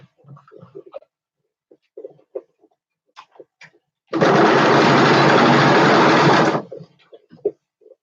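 A sewing machine runs top stitching in one steady burst of about two and a half seconds, close and fairly loud, with quiet clicks and handling noises before and after.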